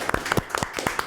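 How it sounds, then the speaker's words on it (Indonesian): A small group claps during a podcast recording with university students, the sharp, irregular hand claps close by and fairly loud over about a second. "Tepuk tangan sekali lagi nggak sih?"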